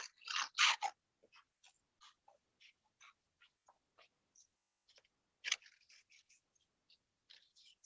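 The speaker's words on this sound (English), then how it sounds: "So now I'm going to take my scissors and cut out my shape." Scissors snip through paper to cut out a shape for a bird collage: a close, quiet series of short crisp cuts, denser at the start and again midway, with brief silent pauses between.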